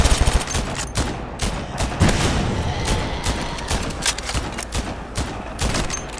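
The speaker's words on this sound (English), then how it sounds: "These guns are going crazy." Dense, continuous gunfire from a Roblox zombie survival game, with rapid overlapping shots and booms that sound loud and close.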